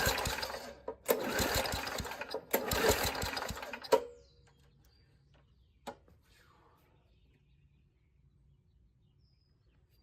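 An old Murray push mower with a 3.5hp Tecumseh engine sputters and runs roughly in close, loud bursts for about four seconds, then dies. A single knock follows in near silence.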